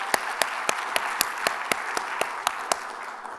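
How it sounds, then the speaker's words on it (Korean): A church congregation claps in unison, a steady rhythmic beat of about four sharp claps per second over a bed of looser clapping, evenly loud throughout. "하나님께 영광의 박수."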